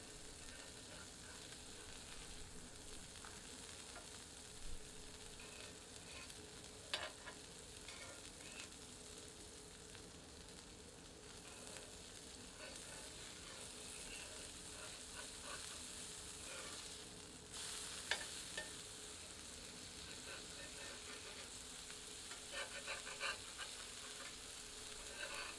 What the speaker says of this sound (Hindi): 5 मिनट धीमी आंच पर घी में सेंकने के उपरांत इन्हें पलट देते हैं।